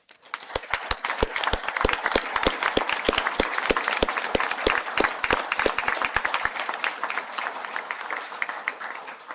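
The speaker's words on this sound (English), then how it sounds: "stand if they are able for a round of applause" A hall audience applauds graduates at a university spring conferring ceremony, with sharp individual claps standing out over a sustained wash of clapping that slowly thins toward the end.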